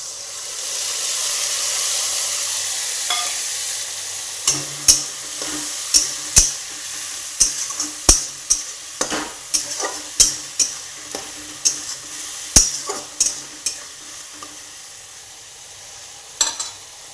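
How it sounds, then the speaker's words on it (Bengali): A paste of tomato, ginger-garlic, cumin, coriander and chili powder with salt sizzles steadily in oil for egg curry, broken by about fifteen sharp, irregular stirring scrapes and clanks from the middle onward. "মশলাটা ভাজা হয়ে গেছে"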